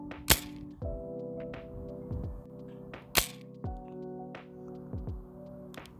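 A Nerf Elite 2.0 Volt blaster fires foam darts, each shot a sharp pop or crack followed by a short mechanical clunk, spaced about a second apart in an uneven series with no talk.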